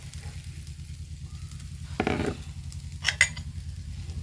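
A spoon stirs kothu chapati in a hot pan over a steady low sizzle, with one scraping sweep followed by a couple of light metallic clinks.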